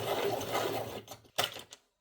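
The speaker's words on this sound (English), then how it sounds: "let me give them a little sharpen" Coloured pencils, Prismacolor, Derwent and Caran d'Ache, being sharpened, a close whirring, grinding buzz for about a second, then two short bursts before stopping.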